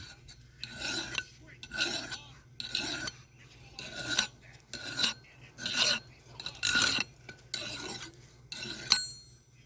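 A homemade forged blade, not yet hardened, sharpened by hand with a file in a home forge, with about nine distinct rasping strokes at an even rhythm, close and fairly quiet, separated by brief pauses.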